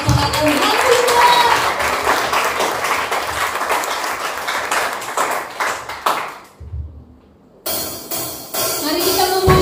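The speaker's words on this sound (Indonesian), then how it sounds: "Mari tepuk tangan buat Tuhan kita" A congregation at an online church worship service claps along, loud and dense for several seconds, then breaks off into a brief near-silence before sound returns abruptly.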